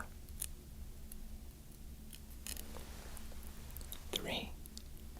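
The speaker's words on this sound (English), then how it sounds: "we're going to pull out that small amount and get a little snip." Tailor's scissors make a small, quiet snip in a soft whispered setting while fitting a custom suit, with faint rustling and ambient hiss around the brief cut.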